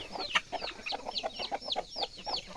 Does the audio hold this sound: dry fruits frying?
no